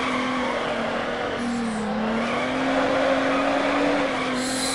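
Subaru drifting in the Need for Speed Underground video game: a sustained engine drone with a long, steady tire squeal running throughout, loud and close, with no talk over it.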